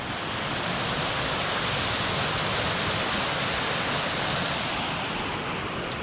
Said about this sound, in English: We've got a little runoff.